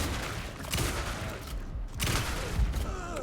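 Shotgun blasts in Alan Wake 2, heavy broadband bursts around the first and second marks with a further loud hit near the end, over a continuous noisy game soundscape.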